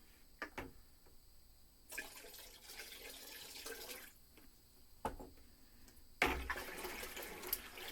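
Water poured in slow, gentle bursts into a batch of homemade cherry whiskey to bring down its proof, with splashy pouring sounds separated by quiet pauses and a few soft clinks.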